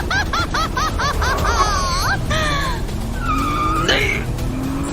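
A car skids out of control with tires squealing, loud sliding screeches over a dramatic music-like backdrop, with a tense spoken line mixed in.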